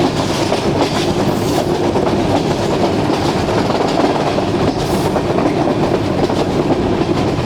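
Pakistan Railway passenger train on the Rawalpindi to Havelian line runs steadily along the track, heard from inside the coach as a loud continuous rumble with rhythmic clickety-clack of wheels over rail joints, no voices.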